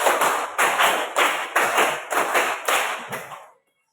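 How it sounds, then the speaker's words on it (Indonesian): A primary school class claps together in a counting rhythm game, crisp synchronized group claps landing in evenly spaced bursts, close and loud, ending in silence. "dua kali tepuk lima"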